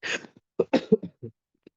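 A burst of coughing: one long harsh cough followed by several shorter, choppy coughs, close by, then a faint final one.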